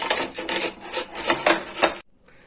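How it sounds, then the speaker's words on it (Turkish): Potatoes rubbed against a kitchen grater while making baked zucchini fritters give repeated rhythmic rasping strokes, close and fairly loud, stopping abruptly near the end. "patateslerimizi rendeliyoruz."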